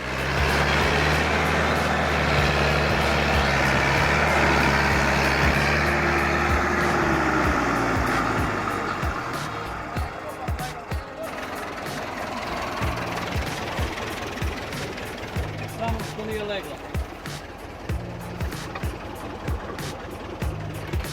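An IMT 550 tractor hauling a fully loaded log trailer along a muddy road, its engine roaring loud and close at first, then easing to a lower, uneven labouring rumble with some rattling.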